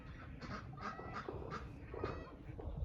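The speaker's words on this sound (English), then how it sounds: "We have a pair of wild geese that always come to this property in the spring" Pair of wild geese calling outdoors on a spring evening property, several honking calls spaced across the clip at moderate distance over a steady background noise.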